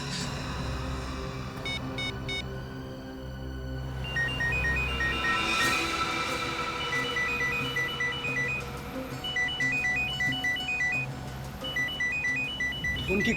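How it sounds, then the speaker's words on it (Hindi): A phone ringtone chirps in repeated short electronic bursts, fairly faint, over a steady background hum and low noise, in a TV crime drama scene. "उनकी घंटी सुनाई दे रही है ना?"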